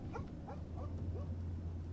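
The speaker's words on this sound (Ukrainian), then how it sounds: "Хто хто там гавкає? Хто лає?" A dog barks and yips a few times in the horror game Fears to Fathom, short sharp calls at middle distance over a steady low hum.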